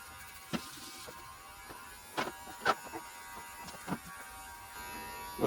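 A Hatteker electric hair clipper with its shortest guard buzzes steadily at close range while cutting hair, a low continuous hum broken by brief louder rasps as strands are caught.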